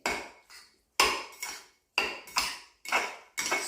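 Catalan-style salmon salad being mixed in a bowl: utensils clink and scrape against the dish in short, close bursts roughly every half second to second, separated by brief silences.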